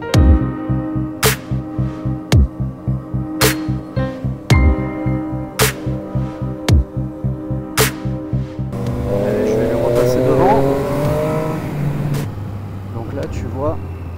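A car on a race track during a driver coaching session drones with a steady engine, and loud rhythmic thumps repeat about every second through the first part before giving way to broader road and engine noise.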